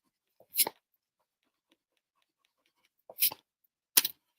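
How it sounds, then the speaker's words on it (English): Three short, scratchy bursts of an eraser rubbing out marks on a crafting project, close and separated by near silence. "Just erase that."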